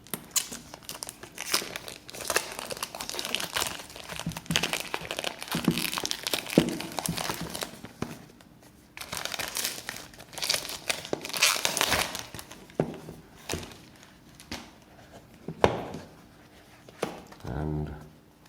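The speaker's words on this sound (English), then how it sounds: "Get rid of this plastic first." Plastic wrap is peeled and torn off a DJI Action 2 camera box, close crinkling and crackling in bursts with short pauses and a sharp rustle near the end.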